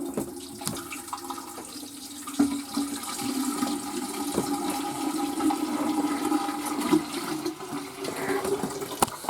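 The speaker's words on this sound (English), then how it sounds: "Gotta fill up the Berkey here." Water pours steadily into a Berkey water filter inside a popup camper, a continuous splashing trickle with small knocks and clinks throughout.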